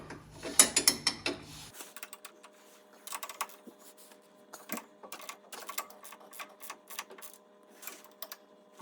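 A ratchet wrench loosens a bolt while an auxiliary hydraulics rear outlet kit is installed on a John Deere X700 series tractor, giving close, uneven bursts of sharp clicks with small pauses.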